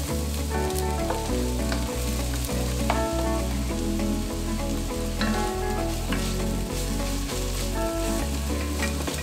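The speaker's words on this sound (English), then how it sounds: "I'm gonna add my onions." Onions fry in hot oil in a pot as the base for a vegan lentil dahl, a loud, close, continuous sizzle broken by rhythmic stirring knocks.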